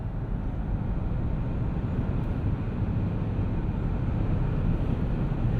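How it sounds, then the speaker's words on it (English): A 2024 Hyundai Ioniq 5 dual-motor electric car accelerates hard, giving a steady, loud broadband rush of road and wind noise with a low rumble that holds even throughout, with no speech. "So you can straighten out here and hit the throttle."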